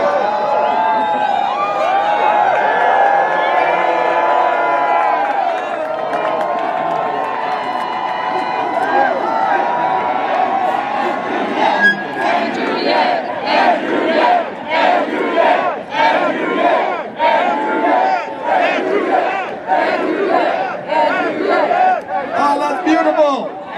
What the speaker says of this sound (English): I can't even go to sleep without a crowd of thousands chanting my name anymore.